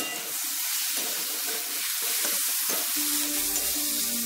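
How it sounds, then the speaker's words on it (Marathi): Finely chopped medium tomato fries with onion in a pan, giving a steady soft sizzle and hiss throughout, with faint stirring and a brief tonal hum near the end. "आता यामध्येच आपल्याला 1 मीडियम साईजचा टोमॅटो बारीक चिरलेला तो सुद्धा फ्राय करून घ्यायचा आहे."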